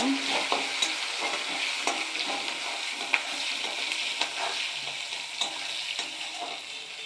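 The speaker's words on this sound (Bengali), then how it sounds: "তেজপাতা আর এখানে ভালো করে নেড়ে নেব" Bay leaves fry in hot oil as they are stirred around a pan, giving a continuous close sizzle with light scraping clicks from the spatula and no voices.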